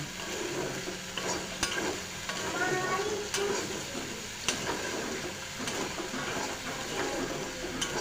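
A sidol bora mixture with ash gourd leaves, stirred in a frying pan over a high flame, gives a continuous sizzle broken by repeated scraping clicks of the spatula against the pan.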